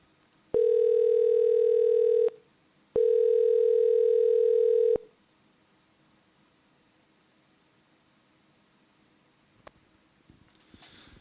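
A telephone dial tone after a caller hangs up: two loud, steady electronic tone bursts of about two seconds each with a short gap, then quiet line hiss and a few faint clicks.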